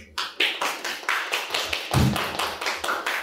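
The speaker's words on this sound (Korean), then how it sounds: "박수로 맞이해 주십시오" A small audience at a university seminar in Korea claps to welcome a lecturer, with a sparse run of distinct, fairly close hand claps in an uneven rhythm.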